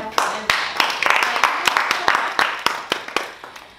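A small audience at a self-confidence masterclass claps for a participant named Karine, a loose, close clatter of individual hand claps with distinct sharp hits rather than a dense roar.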